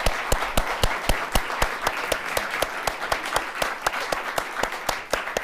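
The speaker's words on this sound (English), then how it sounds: "How about another big round of applause for everyone?" An audience at the Alaska State Poetry Out Loud finals claps steadily, with sharp, evenly spaced individual claps standing out clearly over a softer background of applause.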